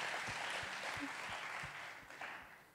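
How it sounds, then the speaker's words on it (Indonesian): A church congregation applauds, a dense wash of clapping with a few rhythmic beats, heard at a low, distant level. "Berikan tepuk tangan yang meriah buat Tuhan."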